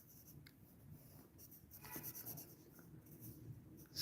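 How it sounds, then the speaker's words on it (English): A pencil sketches an anime-style action figure on paper, giving soft scratchy strokes and rubs in short irregular bursts, quiet and close, with no talking. "let's draw her other hand"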